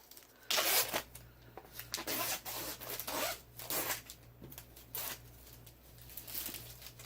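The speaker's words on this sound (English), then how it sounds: "That sounded like a zipper." Plastic wrapping torn off a Transparent Tarot deck, a series of sharp zipper-like rips and crinkles in short bursts, close and fairly loud.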